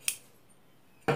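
Scissors snip through cloth being cut for a bag, two short sharp close cuts about a second apart with quiet in between.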